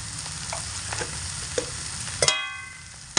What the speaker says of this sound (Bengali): লবণ আর হলুদ দিয়ে শাক খুব ভালো করে নাড়াচাড়া করে নেব